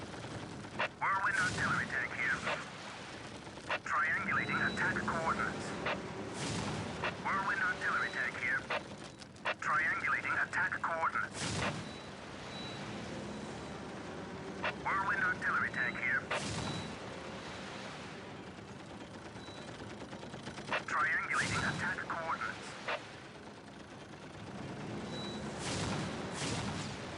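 A Whirlwind artillery tank in Warhammer 40k Dawn of War fires repeated booming volleys, with sharp cracks and rumbling blasts recurring every few seconds at a moderate level beneath other battle sounds.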